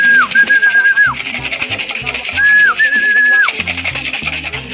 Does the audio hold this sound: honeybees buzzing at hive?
no